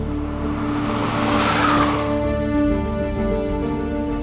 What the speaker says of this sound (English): And there are the chase cars